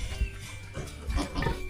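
A pig grunts and oinks in short, low bursts close by, with a few snorts in between and some background noise.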